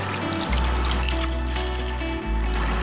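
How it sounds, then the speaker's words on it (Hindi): Water pours into a bowl of vinegar and salt, a continuous splashing trickle with a low hum underneath and a brief break partway through. "एक चम्मच नमक डाल देंगे और इसके अंदर पानी ऐड कर देते हैं।"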